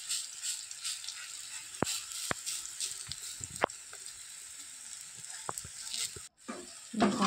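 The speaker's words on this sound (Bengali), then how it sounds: "ভাজা করে নেব।" Khesari lentil fritters fry over medium heat in oil in a wok, making a soft steady bubbling sizzle punctuated by several sharp clicks and taps of a utensil against the pan.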